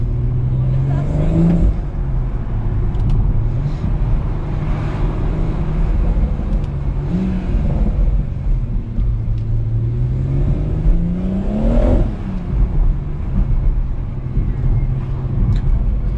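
A steady engine drone from a BMW M140i runs throughout, with pitch rising and falling as the car speeds up and eases off at night, close and fairly loud.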